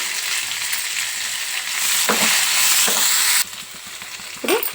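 Garlic cloves, broken dried red chillies, mint, curry leaves and coriander fry in a pan for a ridge gourd roti pachadi, giving a loud, continuous hiss and sizzle close up, with a few stirring scrapes and a sudden drop in level near the end.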